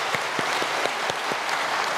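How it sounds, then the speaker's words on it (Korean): A church congregation applauding, a short burst of steady clapping from a modest group in an indoor hall. "우리 박수하도록 하겠습니다."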